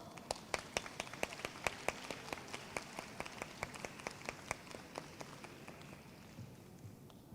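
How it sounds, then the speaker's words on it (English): Audience applause and clapping greet a school science team, SMA Progressive Bumisalawa, walking onto a competition stage; the claps are steady and moderately loud, with sharper individual claps rising over a dense wash that tapers off toward the end. "A big round of applause."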